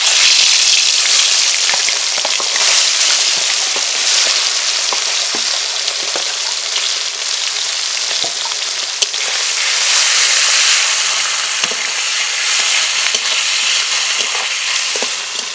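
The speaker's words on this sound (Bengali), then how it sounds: "কড়াই গরম হয়ে গেছে, সর্ষের তেল দেব। বান মাছগুলো ভেজে নেব।" Baan eel fish fry in hot mustard oil in a kadai, a loud, steady, close sizzle with constant crackling and scattered sharper pops throughout, and no voices.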